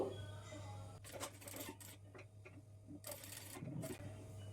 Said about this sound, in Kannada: ಪ್ರತಿಯೊಂದು ಮೂಲೆಯಲ್ಲೂ ಸಹ ನೀಡಲನ್ನು ಇಳಿಸ್ಕೊಂಡು ಸ್ಟಿಚ್ ಮಾಡ್ಕೊಳ್ತಾ ಬರಬೇಕು